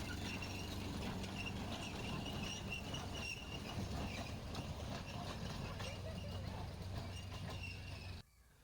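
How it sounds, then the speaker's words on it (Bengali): A toy train runs through Narendra Narayan Park in Cooch Behar, West Bengal, with a steady rumbling, clattering drone under crowd chatter and voices until it drops away near the end. "এই দেখুন টয় ট্রেন সবাই ঘুরছে টয় ট্রেনে করে"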